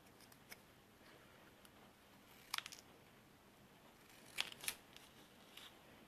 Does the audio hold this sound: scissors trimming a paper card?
yes